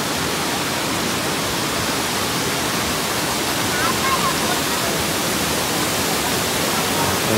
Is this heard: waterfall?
yes